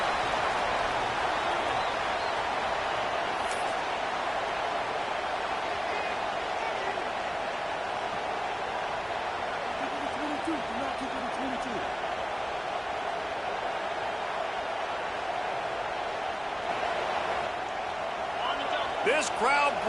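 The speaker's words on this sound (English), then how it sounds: "This crowd bringing the energy and noise early." Continuous roar of a stadium crowd in the NCAA Football 26 video game, a dense steady wash of cheering noise with faint thuds and a rising swell near the end.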